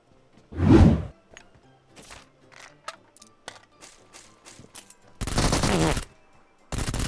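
Dual Vector submachine guns firing in a mobile shooter game, a loud burst at the start, scattered quieter shots and impacts, then two more sustained bursts of rapid fire toward the end, with gaps of near silence between.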